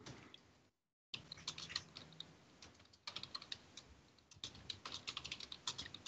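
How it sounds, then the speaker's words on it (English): Loud, rapid typing on a computer keyboard, close-up clicking in irregular bursts with one short silent gap, picked up during a live online debate call. "Who's typing dead loud?"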